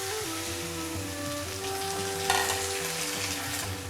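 Papaya stir fry cooking in a pan just after a little water has been added, Kerala style, giving a steady broad sizzle and bubbling that holds throughout with a brief louder splash midway.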